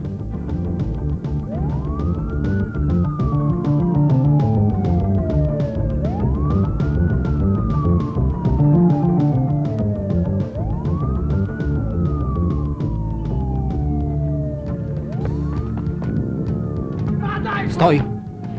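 An ambulance siren wails in a 1994 drama scene, sweeping up and gliding slowly down in four long, even cycles. It stays loud and steady over a busy background and ends in a brief clatter.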